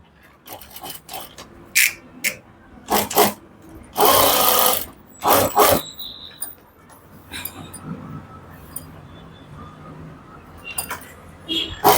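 A sewing machine stitches a blouse, its motor whirring in several short bursts and one longer run, close and loud, with quieter pauses between.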